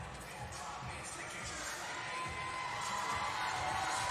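Arena crowd at a CrossFit competition, the 2019 Rogue Invitational, cheering to urge on athlete Laura Horvath, a dense roar of shouts and whoops that swells steadily louder toward the end.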